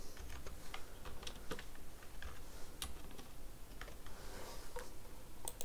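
Rapid, steady keystrokes on a computer keyboard as random values are typed into a Python list, close and continuous with no talking.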